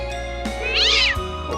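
A cat meowing in the video game Tales of Cold Steel, a single close, clear meow with a rising and falling pitch, heard alone.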